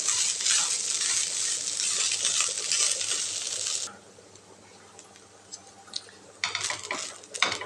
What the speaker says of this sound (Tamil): சாப்பாடு போட்டு நல்லா மிக்ஸ் பண்ணிக்கலாம்.